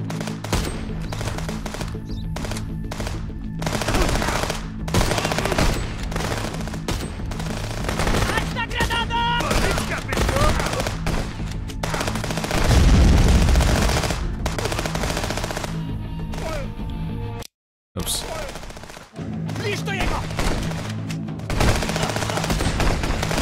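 Enemy gunfire in the game Contraband Police: bursts of automatic and single shots crack repeatedly over about twenty seconds, loud and close, with a heavy thump midway and a brief silent gap.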